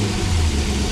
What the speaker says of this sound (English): now the engine is firing up perfectly